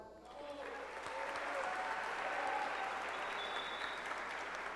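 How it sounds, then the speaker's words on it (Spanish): Steady applause from an audience at a Spanish-language impromptu speech contest for a professor, a dense, even wash of clapping that swells early and holds for several seconds. "les pido también que le demos un aplauso al profesor Waldo"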